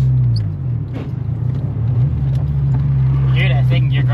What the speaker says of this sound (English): You hear that second gear grinding too?